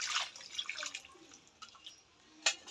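A small amount of water is poured into fish curry with soft drips and trickles, quiet and close, ending in a brief louder splash.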